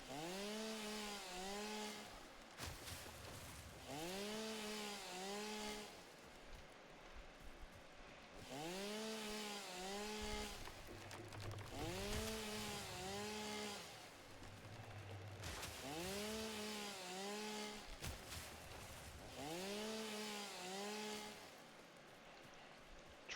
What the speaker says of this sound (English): Apologize for the loudness of chainsaw